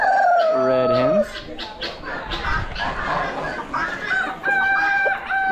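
Red hens cluck and squawk nearby at an outdoor Amish animal auction, several birds calling over one another, with a loud rising crow at the start and wind noise underneath.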